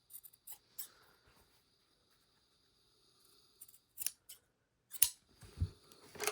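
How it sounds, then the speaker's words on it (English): Scissors make quick, crisp snips while clipping the corners of a sewn fabric collar, several close cuts in small clusters separated by quiet pauses. "First thing you want to do, clip your corners."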